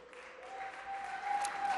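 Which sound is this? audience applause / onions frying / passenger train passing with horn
audience applause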